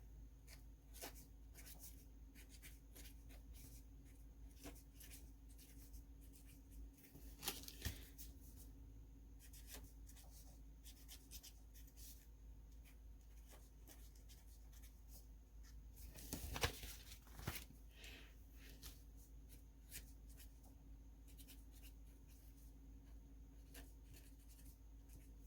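Pen writing on a photocard package, quiet scratchy strokes in short bursts over a low steady hum, with a couple of louder rustles of handling, close and faint.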